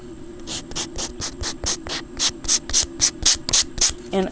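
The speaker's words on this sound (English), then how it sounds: "I tend to just kind of rub away a little bit of the paint" Paint being rubbed off a homemade faux ruler embellishment: a steady series of about fifteen short, rhythmic rasping strokes, close and clear, speeding up slightly toward the end, with no talking.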